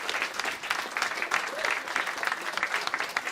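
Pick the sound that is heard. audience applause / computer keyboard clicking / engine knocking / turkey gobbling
audience applause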